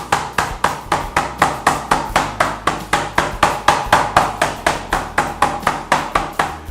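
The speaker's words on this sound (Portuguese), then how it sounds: "Então você vai dando batidas. e o seu bife, no caso, ele vai se formando." A meat tenderizer mallet pounds a pork steak in a fast, steady series of about twenty-five sharp, close thuds, evenly spaced and loud, with no talk.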